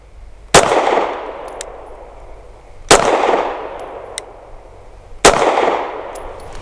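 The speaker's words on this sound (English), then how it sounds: "Very soft shooting in this gun and a nice grouping" Three sharp, loud pistol shots from a custom Sig P320 firing Sierra Outdoor Master 124 grain rounds, spaced roughly two seconds apart, each followed by a ringing decay at an outdoor range.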